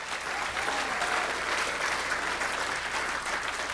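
Audience applause fills a gala hall for a Steelers Super Bowl MVP, a dense, even wash of clapping that stays fairly distant and steady without a break.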